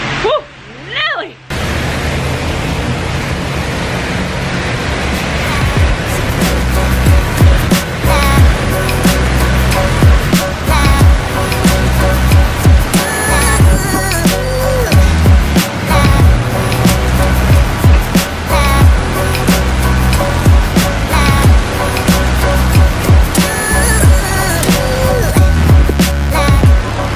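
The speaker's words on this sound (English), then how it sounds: "it is super windy and rainy" Strong wind and heavy rain from a storm in California, recorded from an outdoor balcony: a loud, continuous broadband roar with gusting surges, brief shouts near the start.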